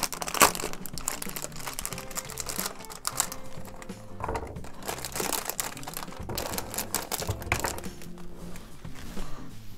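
Soft foam bullets for a Blaze Blaster Storm toy gun are pulled from their plastic packaging, producing steady close crinkling and rustling with sharper crackles throughout, and no speech.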